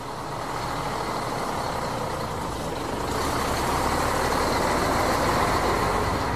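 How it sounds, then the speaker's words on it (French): A tanker truck drives steadily toward a petrol station, a continuous rumbling engine drone with broadband road noise that swells slightly partway through. "Un camion-citerne de la compagnie le conduit à l'étape finale de son voyage, une station essence de la ville de Borum"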